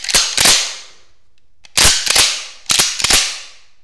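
A Remington 870 Wingmaster 12-gauge pump-action shotgun being worked, three sharp double clacks of the slide racking back and forth, close and loud, with a faint click between them.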